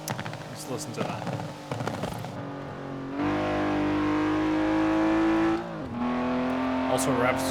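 A 1995 BMW E34 M5 engine in Forza Horizon 4 revs up to about 7,000 RPM, holds a high, steady whine, then drops and climbs again, with sharp popping bursts early on; close and loud.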